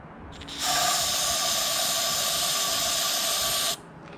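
Lucas Oil Sure Start 50% ether starting fluid sprayed from an aerosol can at a Craftsman 5.5 HP front tine tiller: one steady, loud, close hiss lasting about three seconds, then it cuts off sharply, with no talking.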